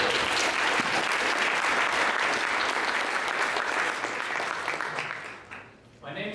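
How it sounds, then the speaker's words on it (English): An audience at a tech community meetup applauds a speaker, dense steady clapping filling the room before tapering off, with a voice starting to talk at the end. "please applaud Moni"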